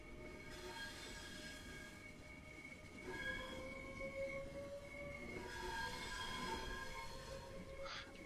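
A train in the game Train Sim World 3 pulls away and gathers speed, its traction motors whining in rising tones over a low rumble of wheels on rail, ending with a brief squeal.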